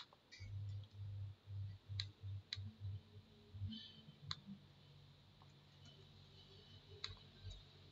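Sharp clicks from a computer keyboard and mouse during copy and paste, a handful of separate taps scattered over a low hum, close and fairly quiet.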